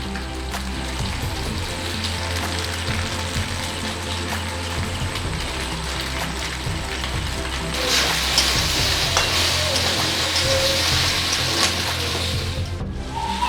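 Pasta stir-fried in a pan with fried egg and pasta masala: a constant sizzle under repeated scraping and stirring strokes, growing a little brighter partway through, close and loud, with no voices.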